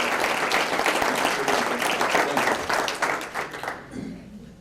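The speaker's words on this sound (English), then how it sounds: "how about a round of applause for those broadcasting?" An audience at an awards ceremony claps in dense, sustained applause that starts loud and tapers off toward the end.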